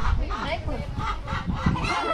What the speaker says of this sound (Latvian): Vistu izdēja olu un tāpēc bļauj.